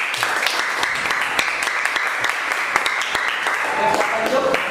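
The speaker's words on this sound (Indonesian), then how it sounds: "tepuk tangan untuk kelompok 4" Classroom audience applauding a student group after its presentation, steady clapping from many hands throughout, with some voices mixed in.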